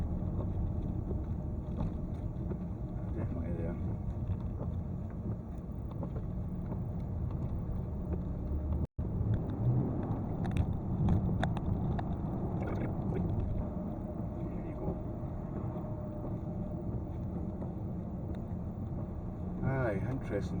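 Steady road and tyre rumble from a Range Rover L405 on the move around a roundabout, with a faulty wheel, probably front left, adding a continuous low drone heard from inside the cabin.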